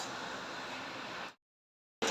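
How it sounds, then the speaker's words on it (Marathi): A steady, soft hiss of heavy summer rain runs for just over a second, then cuts off abruptly into silence. "बापरे पाऊस"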